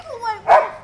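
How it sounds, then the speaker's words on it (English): A single short, loud bark from a dog, close and alone after a brief whine-like rise. "He's barking. He's gonna attack."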